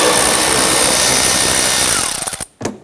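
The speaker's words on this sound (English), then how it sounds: "we're going to loosen this 10mm bolt here." A power tool loosens a 10mm bolt inside the front wheel well of a 1992-1996 Toyota Camry, running loud and steady for about two seconds before stuttering and stopping.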